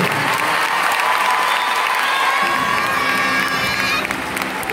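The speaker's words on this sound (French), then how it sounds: "Sous vos applaudissements, mesdames et messieurs" Sustained applause and cheering from an audience at an award presentation honouring Commandant Seynabou Diouf, a dense wash of clapping with shouts and whistles, steady and loud throughout.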